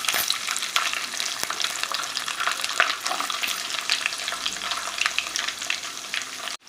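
Amla (Indian gooseberry) pieces fry in hot oil with roasted mustard seeds, cumin and fenugreek for a red chilli pickle, giving a steady, close crackling sizzle with faint stirring scrapes throughout and no voices.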